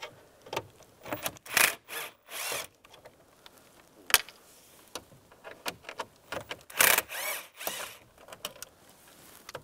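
Screws being taken out from under a trim panel with a T20 socket on a 1998-2010 Volkswagen Beetle interior, heard as scattered close rubbing, scraping and clicking bursts in irregular clusters with quiet gaps.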